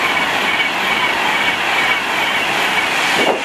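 Passenger train on the London Euston to Manchester Piccadilly service passing through Tamworth, a loud, steady rushing roar of wheels and rail noise that holds through the whole stretch with a faint squeal near the end.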